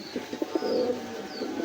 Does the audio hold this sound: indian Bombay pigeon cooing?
yes